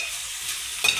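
Ingredients for a Nellore-style fish curry fry in hot oil, giving a close, steady sizzling hiss that ends in a brief louder clatter of stirring.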